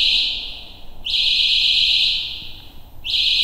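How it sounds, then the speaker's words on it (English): A capacitive human detector sensor guarding a museum figurine sounds a loud, shrill, high electronic alarm tone in repeated long bursts separated by short gaps, close and alone. "he is producing an alarm"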